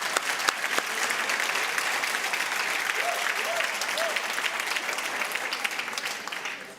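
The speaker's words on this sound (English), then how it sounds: "Can we give them another round of applause, please?" Sustained applause from a crowd at an agricultural awards gala, a dense, even wash of many hands clapping that carries on throughout and only slightly eases at the end.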